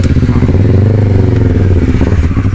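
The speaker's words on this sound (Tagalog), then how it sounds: "Sasabay sa atin yan, pre, yung motor." A motorcycle engine drones loud and close at Caticlan Pier, a steady, rough rumble that carries through the whole stretch with no talk.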